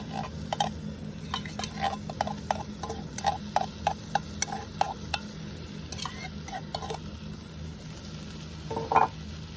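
A pot bubbles and simmers steadily on a camp stove beside its low hiss at a beach campsite, with light clinks of a utensil tapping the pot at irregular intervals.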